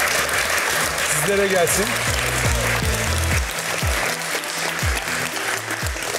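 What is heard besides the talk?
studio audience applause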